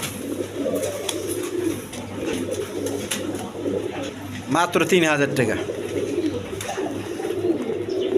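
Fancy pigeons kept for sale coo repeatedly in a loft nearby, soft low calls running under a voice, which rises briefly over them partway through.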